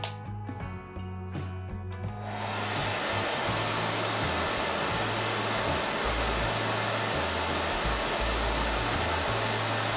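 After a couple of seconds of faint handling, a handheld hair dryer switches on and blows a loud, steady rush of air that keeps going without a break. It sounds close by, and no one speaks.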